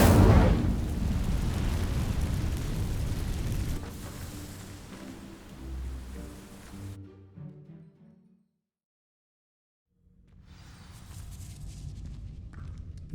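Incendio spell igniting dry vines in Hogwarts Legacy on PS5, a loud whooshing burst of fire that roars and crackles before fading to near silence, then ambient sound returns.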